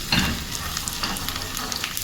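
Garlic dropped into moderately hot oil in a pan sizzles and crackles loudly and steadily throughout, close up, with a brief burst at the start.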